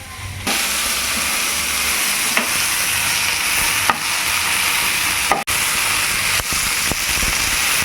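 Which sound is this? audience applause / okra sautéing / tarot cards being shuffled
okra sautéing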